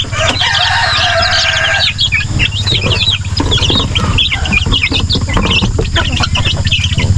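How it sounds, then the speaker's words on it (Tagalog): Chickens and young chicks on a farm fill the air with close, busy clucking, peeping and occasional crowing, while someone talks over them. "yung ibang batch naman ng sisiyo natin dito"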